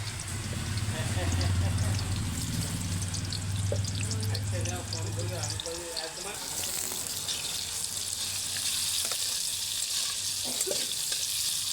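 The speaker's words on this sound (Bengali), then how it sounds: "আমি আলুটা ভেজে নিচ্ছি" Potatoes frying in oil for a Bengali chicken kosha, a steady broadband sizzle running throughout, with a low hum under the first half and brief voices and kitchen clatter near the end.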